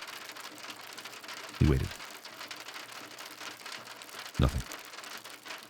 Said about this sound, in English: Rain continued its relentless percussion against the tent.